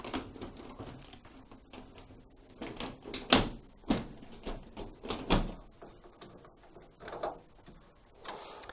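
Plastic parts clack and snap as the lid goes back onto a Candy tumble dryer, a series of sharp knocks and clicks at irregular intervals with quiet handling in between.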